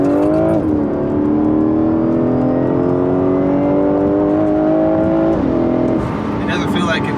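A BMW F10 M5 accelerates hard on a road near Tijuana, Mexico, with slight traction loss. Its engine note climbs steadily with quick gear-change dips, loud and close, from inside the car.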